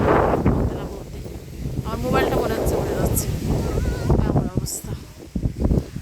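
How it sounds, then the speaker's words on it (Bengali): Strong wind in England buffets the microphone in heavy gusting rumbles, while voices talk over it, with a brief sharper noise near the end. "কি বাতাস শোনায়"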